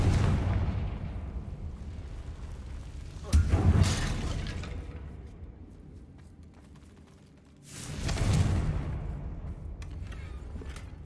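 A Confringo spell in Hogwarts Legacy sets off two loud booming explosions several seconds apart, each with a rumbling, crackling tail fading into quieter ambience.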